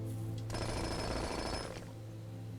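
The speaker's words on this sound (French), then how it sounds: "On a eu le bruit du marteau-piqueur." A jackhammer in the video game Blue Prince hammers in a rapid, harsh burst lasting just over a second, loud over a steady background hum before cutting off.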